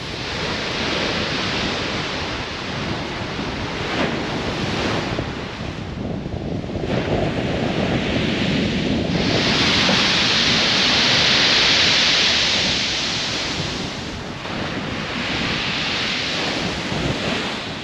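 Waves rolling in on Chesil Beach, Dorset, during a summer beach-fishing session, with strong gusting wind of about 25 to 30 mph buffeting the microphone; a loud continuous roar of surf and wind that swells and eases.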